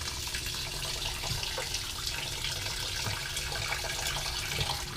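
Rice being washed under a running kitchen tap before cooking, a steady broadband rush of water filling and splashing in a bowl, continuous and close for the whole stretch with no talk.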